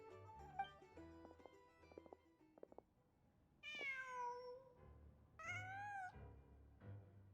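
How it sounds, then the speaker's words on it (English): A cat meows in the Genshin Impact video game, a few distinct, clear meows standing out over quiet game ambience and soft clicking sounds, with no talk. "Just a cat."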